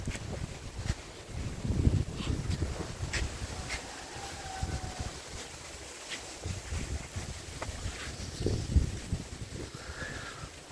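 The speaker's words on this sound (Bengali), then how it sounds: "প্রচন্ড রকম বাতাস," Strong gusty wind on a rooftop, rumbling buffets against the microphone that swell and ease, loud and unsteady, with no one talking.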